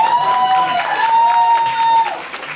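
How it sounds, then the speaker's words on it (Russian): Applause from an audience at a live radio show rises as a dense patter of clapping, with a voice and some tonal sounds carrying on over it before it tapers off. "аплодисменты."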